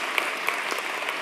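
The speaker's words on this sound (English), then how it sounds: "please join me in giving a round of applause to Leisl" A crowd at a City of Sydney entrepreneur program talk gives a steady, dense round of applause, close and continuous for a brief moment.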